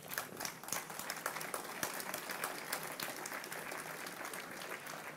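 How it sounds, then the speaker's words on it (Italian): Applause from an audience at a public talk on intergenerational issues, sustained dense clapping with sharp individual claps standing out, continuing steadily at a fairly even level for several seconds. "Non so se l'applauso è per la scelta di Borgo o per il farsi più in là"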